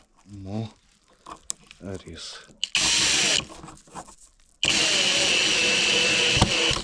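A drill drives self-tapping screws into fixings over insulation, giving two loud sustained whirring bursts after a stretch of talk, with a short pause between them.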